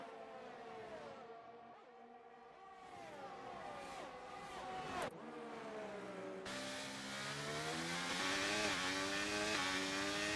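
Formula 2 race cars lap the Abu Dhabi circuit in a league season finale, their high engine whine rising and falling through gear changes as a second car closes in and the sound swells louder.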